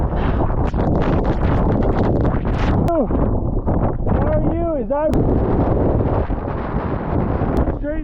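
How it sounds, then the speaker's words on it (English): Strong blizzard wind roars steadily against the microphone throughout, with gusts buffeting and a few whining tones rising through it while a person talks intermittently. "it's a little bit windy out there"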